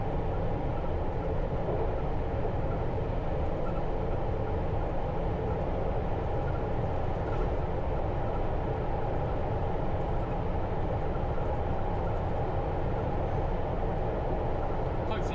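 A London Underground train roars steadily from the driver's cab on the run toward Heathrow Terminal 5, a dense continuous rumble of wheels and motors without a break.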